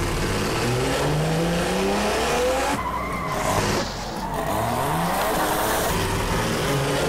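Engine of an Opala coupe with a Las Vegas roof in a GTA video game: loud revving that climbs through gears, with tire squeal and skidding, constant and close, with no voices.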